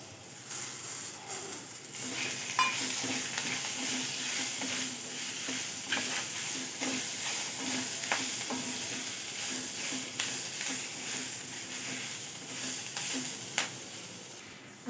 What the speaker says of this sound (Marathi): याच्यात आपण हिरवी मिरची आणि टमाटा आता छान त्याच्यातच फ्राय करून घेऊया।